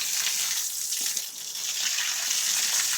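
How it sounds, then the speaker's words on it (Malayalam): Water sprays onto building stones at a house construction site to wash out mud, making a continuous, loud hissing gush that stays steady and close throughout with no talking. "വെള്ളം സ്പ്രേ ചെയ്ത് കൊടുക്കുകയാണെങ്കിൽ ഇതാണ് ഈ ചളി വെള്ളമായിട്ട് ഇങ്ങനെ വരും."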